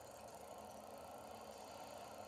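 A tractor engine runs at a steady drone while mowing hay, a continuous even hum with faint rattle. It is heard alone at low level with no speech.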